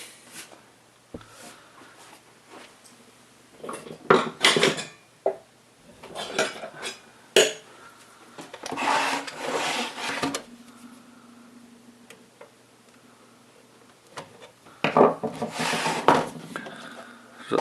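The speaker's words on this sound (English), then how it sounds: "Just use the screwdriver just to prise it back a little bit." A screwdriver prises open the back cover of a Dell 7010 USFF desktop, giving scattered scraping clicks and short rasping bursts of plastic and metal, close by and separated by quiet gaps.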